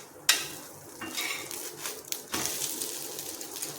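A metal spatula scrapes around the edges of a rava dosa on a hot pan, with a sharp initial clink followed by soft scraping and faint sizzling, close up and fairly quiet.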